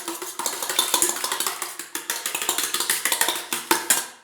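A whole egg, yolk and white together, whisked briskly in a bowl for a hair mask, giving a steady run of quick clicking, scraping strokes up close, loud and without speech.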